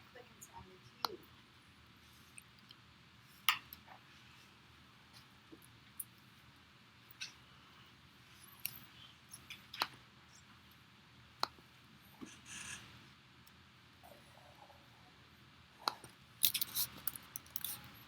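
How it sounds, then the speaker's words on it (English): A computer mouse clicks in sharp, scattered single and double taps over a quiet room hum, some louder and closer than others, with a few busier bursts toward the end. "Stop using that mouse. I thought it was Sean making that clicking sound."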